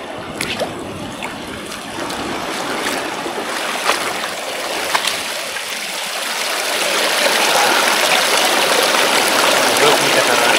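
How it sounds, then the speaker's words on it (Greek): Waterfalls in a magical coastal landscape by the sea, a broad, loud, continuous rush of falling water that swells slightly toward the end, with no voices. "Εδώ έχουμε καταρράκτες."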